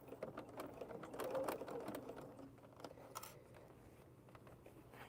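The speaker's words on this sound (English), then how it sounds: "and now I can stitch." A sewing machine stitches a duffle bag, giving a soft, fairly quiet run of rapid mechanical whirring and ticking that swells early and then fades to lighter clicks.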